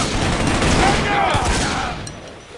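Rapid, dense gunfire fills a firefight in the shooter game Shadow Ops: Red Mercury, loud and continuous bursts that fade slightly toward the end, with a voice talking underneath.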